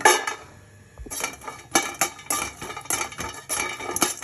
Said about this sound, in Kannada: ಈಗ ಒಣಕೊಬ್ಬರಿ ಹಾಕ್ತಾ ಇದ್ದೀನಿ ಇದನ್ನು ಹುರ್ಕೊಳ್ಳೋಣ